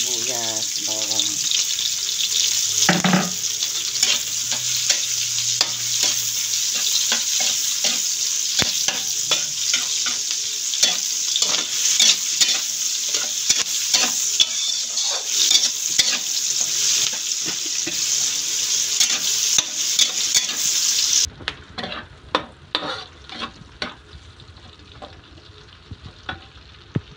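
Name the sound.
garlic sautéing in a pan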